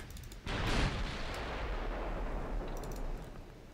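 Naval guns in a video game naval battle against a battleship: one heavy boom opens a sustained rumbling blast that lingers and slowly fades, moderately loud, no talking.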